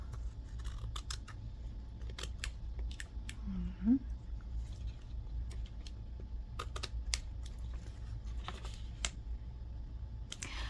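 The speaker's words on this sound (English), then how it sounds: "I can just trim it the rest with my scissors" Scattered crisp snips of scissors cutting paper, irregular and close, over a low steady hum with a faint brief vocal sound midway.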